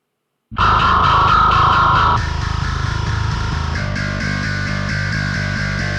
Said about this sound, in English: This is the one that I tend to gravitate to when I'm using just Saturn for bass tones.